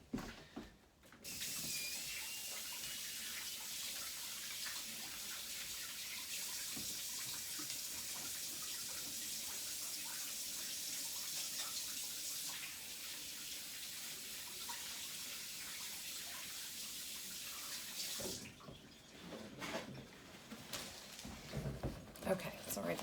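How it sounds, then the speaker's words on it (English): Hands are washed under a running kitchen tap while cooking pâté, a steady close rush of water lasting about eighteen seconds before it cuts off, followed by small handling clatter. "I'm gonna wash my hands again."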